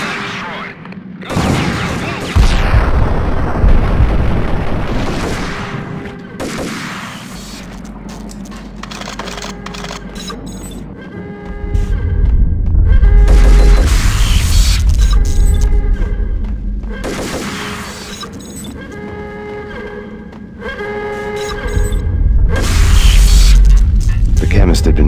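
Explosions during a self-destruction sequence in the Max Payne video game: heavy booms and rumbling blasts come in waves, mixed with mechanical clatter and game music, while a voice speaks over parts of it.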